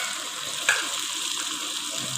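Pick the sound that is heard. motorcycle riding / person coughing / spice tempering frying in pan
spice tempering frying in pan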